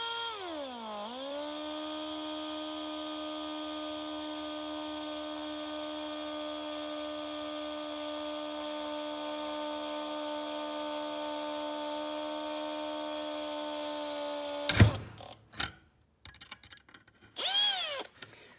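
An electric drill runs at a slow, steady whine while boring holes in a steel skid plate, spinning up at the start and holding a constant pitch before cutting off into brief clatter and handling noises.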